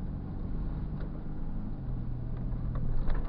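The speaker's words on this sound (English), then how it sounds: "So I'm giving a little more gas into the turn." A Lokka car engine pulls with extra throttle through a left turn onto an ungroomed dirt and gravel road in snow and ice, in four-wheel drive. A steady, broad engine rumble and road roar stay constant and close, with no talking.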